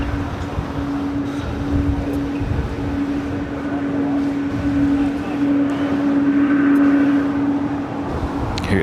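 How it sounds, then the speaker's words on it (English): A United Boeing 777 taxis at LAX, heard as a steady distant jet-engine drone with a persistent tonal whine over broad rumbling background noise. "you can hear a 777 with United. It's taxiing over on Charlie at the moment."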